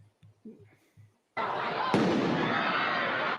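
Fireworks explode in downtown Miami on New Year's night, a loud dense crackling roar with a sharp bang partway through, following brief murmured speech.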